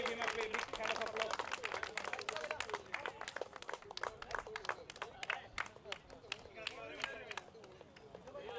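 A scattered round of applause for a cricket league award winner at a tournament prize ceremony: sparse, uneven hand claps from a modest crowd, with a loudspeaker voice faintly underneath.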